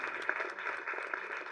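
An audience at a Tamil film audio launch applauds on cue, giving steady, dense clapping at moderate distance throughout the short moment with no break.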